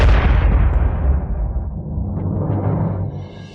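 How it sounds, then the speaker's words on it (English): A massive, booming blast from the Shenwu Great Cannon, loud and close, its deep roar rolling on for a few seconds before fading away. "What is that sound? The Shenwu Great Cannon."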